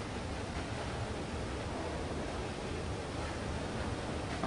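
Steady, dense rushing of rising water in the video game Limbo fills the whole stretch, a constant broadband wash like surging or boiling water with no pauses and no voices.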